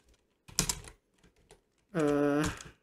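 Computer keyboard keys clack in a short close burst, followed by a few faint scattered taps while code is copied and pasted, then a sustained voiced hum briefly takes over.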